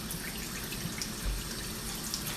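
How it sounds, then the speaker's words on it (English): Hot water from a pot of cooked macaroni runs into a kitchen sink in a soft, continuous splashing trickle, fairly faint and steady, with no talk. "So we're going to go and drain this macaroni now."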